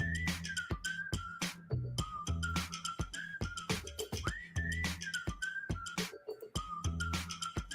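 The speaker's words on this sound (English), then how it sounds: "This is the whistle song." A person whistles a tune with sliding pitches. The whistling sits over a loud, regular percussive backing beat in a recorded song.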